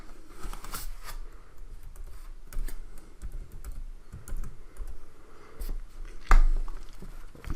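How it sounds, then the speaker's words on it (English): Soft, irregular keystrokes on a computer keyboard, quiet clicks scattered in short clusters with a sharper tap near the end, no talking. "Let's type this into iMathAS."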